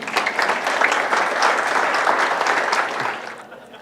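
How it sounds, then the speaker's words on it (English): A chapel audience claps in a dense, sustained round of applause that holds steady at close range, then thins and fades out over the last moment. "Just give yourselves a round of applause."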